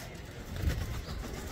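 Hyderabadi pigeons from a loft in Lucknow, a soft low cooing close by over faint ambient noise.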